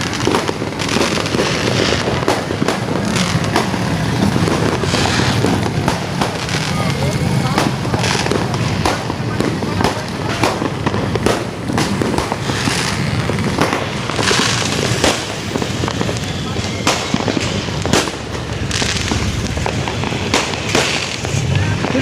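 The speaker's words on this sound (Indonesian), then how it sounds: "Kota Manokwari dipenuhi dengan petasan di malam tahun baru," New Year's Eve fireworks and firecrackers crackle and pop continuously over the city of Manokwari, dense overlapping bursts near and far, with a few loud sharp bangs and occasional voices mixed in.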